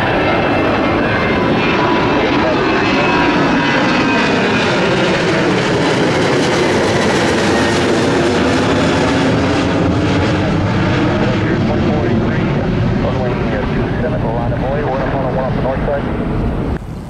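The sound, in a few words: loud airplane takeoff at Miami airport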